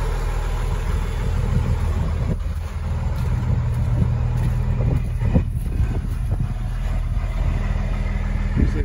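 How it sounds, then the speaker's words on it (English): A six-cylinder diesel bus engine idles up close, a loud, steady low rumble that holds continuously with no talk over it. "Oh, I love the sound of a six-cylinder diesel."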